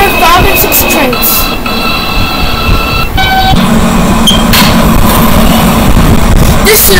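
A subway train in a Roblox game arrives with a rumbling, screeching rail sound. Tones and horn-like beeps sound over steady car noise at close range.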